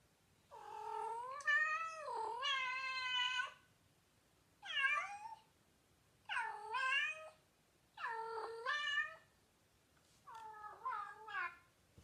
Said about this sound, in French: Je vais vous faire écouter le miaulement du chat.